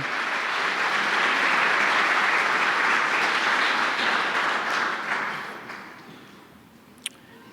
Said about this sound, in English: So a round of applause for the Texas Sports Hall of Fame also.